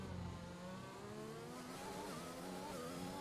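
F1 2021 race cars scream around the track on the final lap, layered high-pitched engines rising and shifting in pitch as they rev and pass, faint and steady with no voices.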